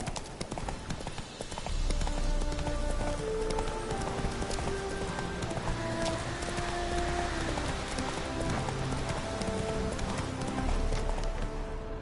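Hoofbeats of the horse Roach galloping in the video game Witcher 3, a steady rapid clip-clop rhythm running nearly throughout with game music beneath, close and fairly loud.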